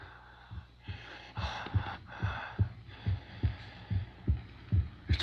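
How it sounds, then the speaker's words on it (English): Frankenstein's creature breathing with deep, rhythmic heaving gasps, about a dozen in five seconds, each with a low thudding pulse. The breaths are close and fairly quiet, and no one speaks. "It's breathing."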